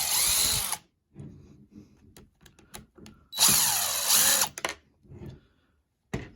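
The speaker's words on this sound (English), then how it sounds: "that gives us easier access here to take out these camber screws" A power driver backs camber screws out of a Traxxas 2WD RC car shock tower, two loud close whirring bursts separated by quiet handling, clicks and small plastic knocks.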